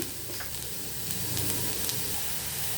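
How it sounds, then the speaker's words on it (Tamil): Taro root (seppankizhangu) pieces coated in spicy masala fry in a hot kadai with a steady, close sizzle, punctuated by a few soft stirring scrapes. "கொஞ்சம் அப்படியே ஃப்ரை ஆகட்டும்."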